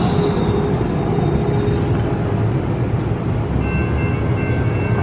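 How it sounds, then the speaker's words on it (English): A train passes at a station in Portland, Oregon, a loud steady rumble with rattling wheels and faint squeals throughout, close by and continuous. "Not our train, but ours should be here in about 2 minutes."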